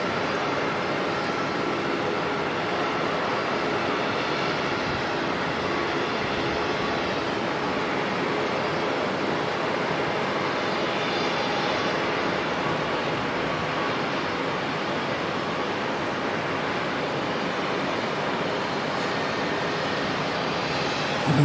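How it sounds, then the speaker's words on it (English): An airliner lands at Auckland Airport and roars through heavy reverse thrust, a steady, broad, loud engine rush holding unbroken for the whole stretch with no talk over it. "Too much reverse thrust there."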